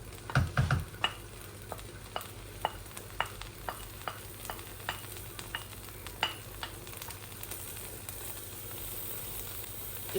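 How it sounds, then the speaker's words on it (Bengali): Chicken is tipped onto fried rice in a pan for a shortcut chicken biryani, then stirred: a spatula scrapes in a regular rhythm of sharp knocks over a constant close sizzle. "এই যে আমার চাউলগুলা ভাজা হয়ে গেছে, এখন আমি চিকেনগুলা ঢেলে দিব।"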